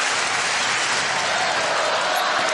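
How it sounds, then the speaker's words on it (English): A New York crowd at the 2006 US Open tennis match between Agassi and Benjamin Becker applauds and cheers loudly, a dense, sustained wash of clapping that stays level throughout. "New York cheer."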